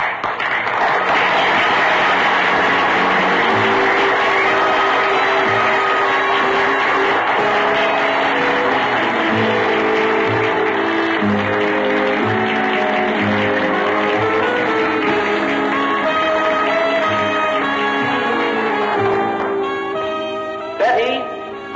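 An audience applauds a beauty contest finalist, a loud, continuous spread of clapping layered over music and background voices that runs the full length and fades slightly near the end.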